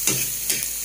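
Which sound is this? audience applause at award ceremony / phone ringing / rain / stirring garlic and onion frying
stirring garlic and onion frying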